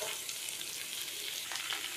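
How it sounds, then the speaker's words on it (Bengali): Chopped bottle gourd goes into a hot frying pan, giving a loud, continuous sizzle with the scrape and rustle of stirring. "এবারে আগে থেকে কেটে রাখা লাউগুলো দিয়ে দেবো"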